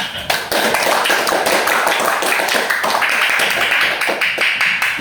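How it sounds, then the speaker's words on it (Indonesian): Classroom applause for a classmate who has just read out a group discussion result: a dense, continuous patter of many hands clapping, loud and close, sustained evenly from start to finish. "Berikan tepuk tangan kepada temannya sudah membacakan hasil diskusinya"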